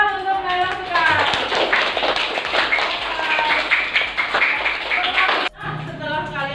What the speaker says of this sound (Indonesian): Tepuk tangan untuk Naila sekarang.